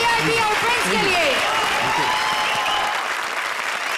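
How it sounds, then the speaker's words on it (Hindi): Loud, sustained applause from a TV comedy show audience, dense clapping that holds steady and then tapers slightly, with a voice audible over the start. "जोरदार तालियां"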